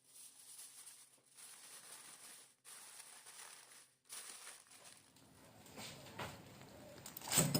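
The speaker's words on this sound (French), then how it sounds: "je le couvre bien d'un papier cuisson puis d'un autre aluminium" Baking paper and aluminium foil crinkle and crush as they are pressed over chicken fillets in a baking dish, a soft rustling that runs in bursts with brief pauses, faint and without speech.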